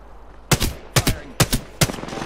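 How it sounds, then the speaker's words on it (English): Gunfire in the Apex Legends battle royale video game: four sharp shot bursts, some doubled, spaced about half a second apart over a low background hum, close and loud. "Shots fired."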